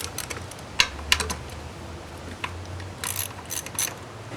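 Ratchet clicking as it works 10mm head bolts loose on the upper intake manifold of a 1995-1999 Nissan Maxima, with short bursts of metallic clicks at a moderate distance and no talking.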